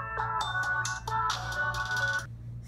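A ZTE Grand X Max 2 smartphone powering on plays a short bright melodic startup chime of several tonal notes over about two seconds, close and clear with a steady low hum beneath.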